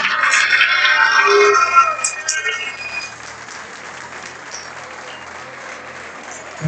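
Strong applause from a crowd at the closing ceremony of a kayak surf world championship in Argentina, loud dense clapping for about two seconds that quickly fades into scattered claps and quiet background murmur.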